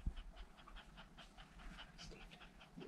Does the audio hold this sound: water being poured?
no